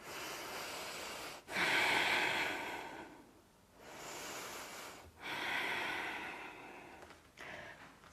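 Slow, deep breaths taken during a yoga practice, heard close and alone: long airy inhales and exhales separated by brief pauses, roughly four breaths in an even rhythm.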